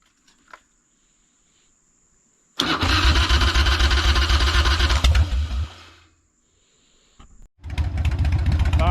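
Warm 1992 Harley-Davidson FXR motorcycle engine cranks and fires, rumbling loudly at close range for several seconds, cutting out, then starting again.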